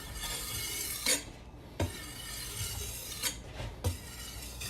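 A dough knife scrapes flour and dough across a kitchen counter, several distinct scraping strokes close by, with a few sharp rasping and clinking accents between a steady background hiss.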